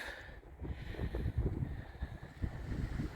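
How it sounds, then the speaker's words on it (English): Heavy wind gusting across a canyon campsite on BLM land in Colorado, with a tent pitched and wrapped around a Toyota 4Runner. It is a low rumbling buffet of microphone wind noise that swells and surges throughout. "There's a heavy wind gust."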